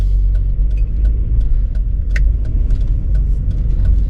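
A car drives along a road to work in Australia, its engine and tyre rumble loud and steady close by, with small clicks and rattles scattered over the continuous drone.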